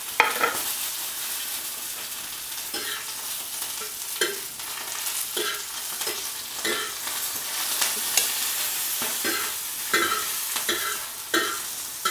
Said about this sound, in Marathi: आपलं तर तेल गरम झाले बरं का आता आपण यामध्ये मिरची टाकून घेऊ